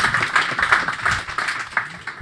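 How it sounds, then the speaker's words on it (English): A small crowd at a river project kick-off meeting in Amsterdam gives a brief round of light clapping, a couple of seconds of close, scattered hand claps with no talk. "small applause"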